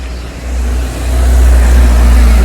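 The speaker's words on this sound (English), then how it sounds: "I hear a car coming" A car passes along a narrow street lined with tiled houses in Tavira, Portugal, its engine rumble swelling from moderate to loud and close as it approaches, with no talking.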